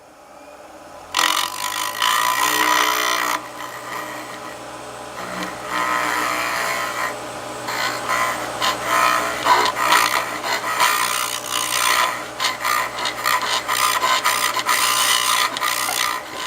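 A lathe spins a small reverse-mounted wooden box while a tool scrapes and rasps across its bottom, the steady motor hum overlaid by loud, uneven cutting noise that comes in bursts.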